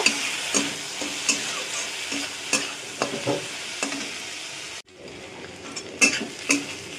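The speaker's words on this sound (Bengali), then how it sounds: "সাথে একটু লঙ্কা গুঁড়ো ভালো করে নাড়াচাড়া করে নেব" A spatula stirs tomato and chili powder into a ground paste for a potato and bata fish curry in a frying pan, with steady broadband sizzle and repeated scraping strokes. The sizzle drops out briefly near the middle, then the clinks resume.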